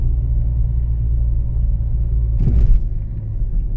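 Car driving along a mountain road, a steady low interior rumble of engine and tires, loud and continuous, with a brief louder thump or rattle partway through and no talking.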